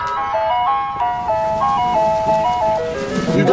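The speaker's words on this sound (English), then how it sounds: "It sounds like an ice cream truck." Ice cream truck jingle playing its tinkling melody loud and close, a steady run of bright chime notes that carries through the whole stretch with faint road noise underneath.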